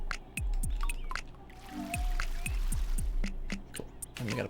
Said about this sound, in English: Okay, so let's water this guy.